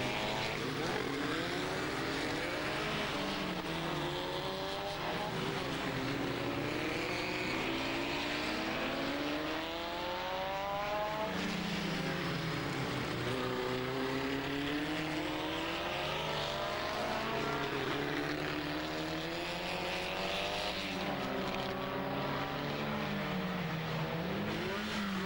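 1991 Volkspares Formula Vee racing cars pass on a race circuit, their engines buzzing loud and steady with rising and falling pitch as several cars go by, one after another, with no talking.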